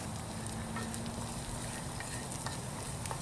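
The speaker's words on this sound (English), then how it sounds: "Frying up nicely, that." Garlic frying in a pan at a wild camp, giving a steady close sizzle with stirring scrapes throughout, no talking.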